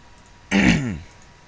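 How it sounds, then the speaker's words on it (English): A man who is feeling unwell clears his throat once, close up: a single rough, gravelly rasp that rises sharply and then fades over about half a second against quiet room tone. "that'll be why I'm constantly clearing my throat"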